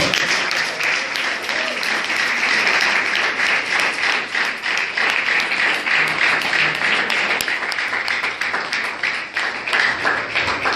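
A church congregation claps steadily and loudly, sustained applause filling the space with voices mixed in underneath.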